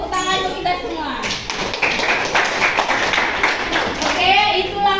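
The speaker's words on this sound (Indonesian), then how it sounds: "Tepuk tangan untuk kita semua." Classroom applause from students at a junior high school, a burst of clapping and tapping that rises after a speaking voice and runs under chatter and children's voices.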